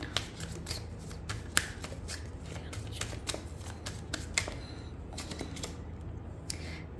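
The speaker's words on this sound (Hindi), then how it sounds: "कार्ड की सफलिंग पर फोकस करना" Tarot cards being shuffled by hand, a close, steady run of crisp riffling clicks and flaps that continues for several seconds without any speech.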